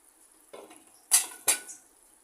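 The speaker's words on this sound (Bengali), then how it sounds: "একটু নেড়ে ছেড়ে দিব সামান্য আলতো হাতে নেড়ে ছেড়ে দিবেন" Pangas fish curry is stirred gently in a pan, giving a few soft scrapes and two sharper clinks of a utensil against metal, close and brief with a faint sizzle.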